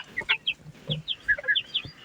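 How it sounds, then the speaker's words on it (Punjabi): Chickens cluck close by in quick, uneven bursts, a series of short sharp calls from a hen and rooster. "ਪਿਛਲੀ ਮੁਰਗੀ ਹੈ ਤੇ ਅਗਲਾ ਮੁਰਗਾ"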